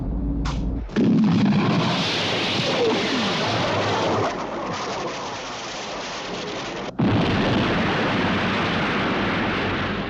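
An explosion effect from the television series UFO: a loud, sustained broadband roar and rumble with abrupt cuts near the start and again around the seventh second, with no voices.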